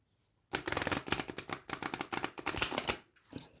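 An Oracle of the Witch oracle card deck with gilded edges is shuffled up close, giving a rapid run of crisp riffling flutters that pauses briefly and then resumes for a moment.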